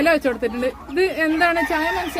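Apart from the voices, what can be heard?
No everyday noise stands out behind the speech.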